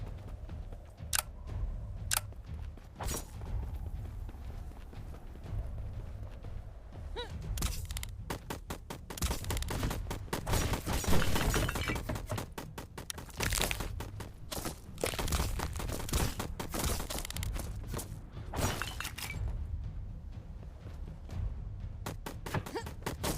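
Enemy gunfire in the game Black Skylands: sharp, scattered shots and rapid bursts crackle throughout, dense and irregular, with busy in-game action underneath.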